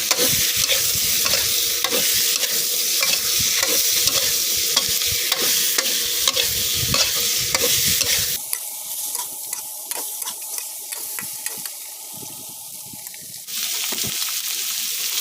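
Catfish stir-fried with spicy curry paste in a pan gives a steady loud sizzle with rhythmic scraping strokes of a spatula, then the sizzle softens and turns more watery for a stretch before the frying resumes.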